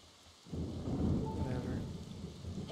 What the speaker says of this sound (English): the rain is destroying my frame rate